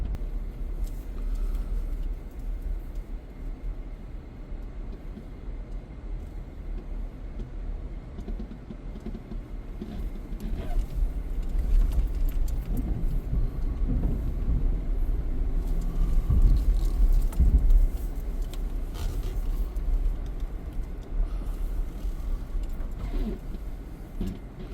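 A Jeep drives along the Roaring Fork Motor Nature Trail through forest, a steady low engine and road rumble that grows louder in the middle, with no talking.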